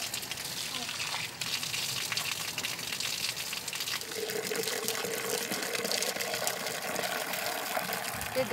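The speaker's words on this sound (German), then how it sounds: "dann freust du dich einfach nur, dass hier so ein Brunnen steht" Water gushes from a well in Nepal in a steady, loud, continuous rush that fills the whole stretch, with faint voices mixed in underneath.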